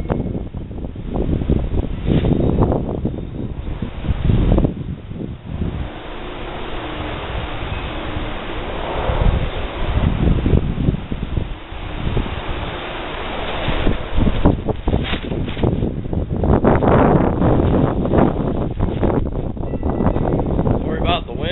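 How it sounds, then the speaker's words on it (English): Wind buffets the microphone outdoors ahead of a coming storm, a loud, continuous rumbling roar with gusty surges throughout, and someone talks faintly beneath it. "Sorry about the wind, but we got a storm coming in."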